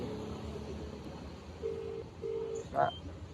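Mobile phone call from a roadside in Assam with two long ringback tones in steady rhythm over traffic and background noise, followed by a brief sharp beep, all faint.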